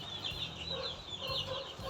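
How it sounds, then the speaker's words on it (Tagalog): Small gamefowl chicks peep in high, rapid chirps amid clucking hens, with soft low-pitched rumbling underneath; the peeping sounds close and continuous. "may mga sisiw na kung naririnig nyo, meron dyan"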